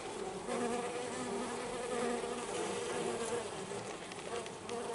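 Honeybees being rescued with a vacuum buzz steadily inside it while feeding on a block of sugar, a dense continuous hum heard close and fairly faint.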